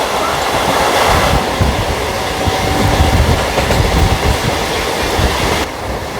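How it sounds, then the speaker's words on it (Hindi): Bangalore Rajdhani Express passing at speed near a Nagpur junction: loud, close rumble of wheels with clickety-clack rhythm throughout, steady and continuous. "बेंगलुरु राजधानी एक्सप्रेस को अपन कर रहे हैं यहाँ पे क्रॉस"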